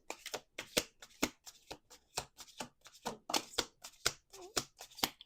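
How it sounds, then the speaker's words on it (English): A deck of tarot cards is riffled and shuffled by hand in quick, crisp bursts of rapid flicks, repeated in a close, fairly quiet rhythm with no speech over it. "Let's do 2 more shuffles."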